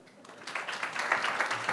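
An audience at a sports management conference breaks into applause to welcome a speaker, the dense clapping swelling and holding steady through the moment.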